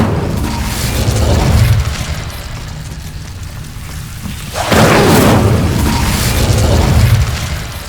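A fire spell cast in Hogwarts Legacy: a deep rumbling whoosh, then a loud burst of roaring, crackling flame about midway that swells and holds, heavy and close, with no talk.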